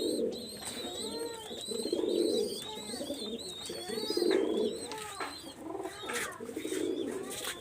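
Pigeons from a master breeding pair coo in a close, steady series of low, rolling calls, with brief higher chirps and background bird noise.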